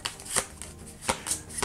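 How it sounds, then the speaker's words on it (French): Three cards from the Dark Souls board game are shuffled by hand at close range, giving two quick, crisp riffling bursts separated by a brief pause. "pas facile de mélanger 3 cartes"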